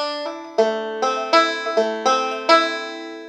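A bluegrass banjo plays Wayfaring Stranger with a swing feel, bright picked notes ringing out clearly in a short, loping phrase of about eight plucks, up close and alone without any voice.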